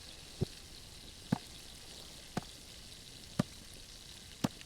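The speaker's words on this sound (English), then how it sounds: "I can hear the water still boiling, so it's not ready yet." A steady, faint hiss of water boiling in a video game, with soft bubbling pops at regular intervals about once a second.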